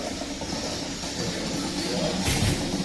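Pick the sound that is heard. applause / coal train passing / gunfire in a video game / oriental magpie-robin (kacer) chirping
coal train passing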